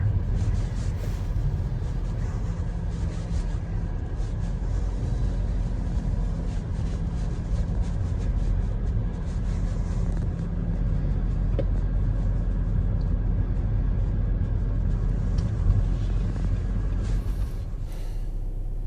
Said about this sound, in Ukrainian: ми робимо ще остаточний тест-драйв